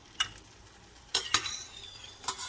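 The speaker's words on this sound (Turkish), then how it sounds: "Daha sonra diğerlerini kızartmaya devam ediyoruz." Filled yufka pastry dough frying quietly in oil for a syrup-soaked dessert, with a soft sizzle, punctuated by a few light clinks of a utensil stirring.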